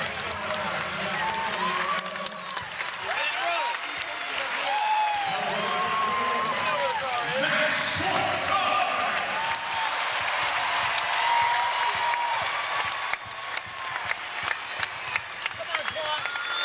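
A volleyball arena crowd at a Tennessee vs. Louisville college match standing at match point, sustained cheering and applause with whoops, under a broadcaster's voice.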